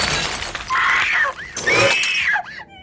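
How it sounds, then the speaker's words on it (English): A television set is smashed abruptly in a 1992 horror film after a shot of TV static, a harsh shattering crash with breaking glass, followed by rising screeching tones that stay loud and close throughout. "this very abrupt smashing of the television set"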